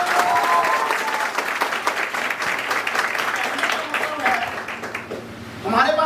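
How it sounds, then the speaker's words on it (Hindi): Loud, enthusiastic applause from an audience at a gathering for a team leader, continuous clapping with a brief voice cutting in near the end. "फिर दादा के लिए एक बार जोरदार ताली।"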